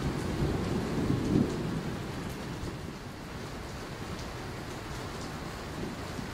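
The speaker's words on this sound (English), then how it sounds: "It started raining" A downpour sets in during an outdoor dinner in Mexico, with a low rumble of thunder early on and dense, steady rain hissing on surfaces throughout.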